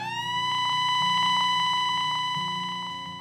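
A continuous evacuation alert siren at a gold mining site sounds as a steady, loud electronic tone, holding one pitch with faint wavering. It swells slightly, then eases toward the end.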